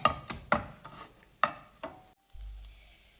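Sweet buns are turned over in caramelizing sugar in a pan, giving a series of sharp scraping clacks spaced about half a second apart, close and fairly loud over a soft sizzle, followed by a low hum.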